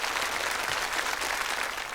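Audience applause at a televised Moscow talent show, a dense, steady wash of clapping from a large crowd filling the whole stretch and tapering slightly at the end.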